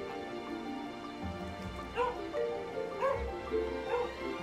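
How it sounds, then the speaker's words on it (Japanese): A dog barking in the video game Gravity Daze 2, a few short yips and barks spaced about a second apart over a quiet steady game background, with no talk. "あら、かわいいワンちゃん。"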